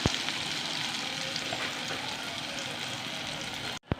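Appam batter ladled into hot oil on a low flame, a steady, close sizzle and bubbling of frying that runs evenly before a brief break near the end.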